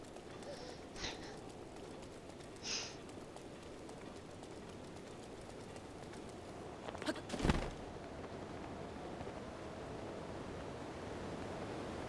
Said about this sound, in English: Oh look, a waterfall.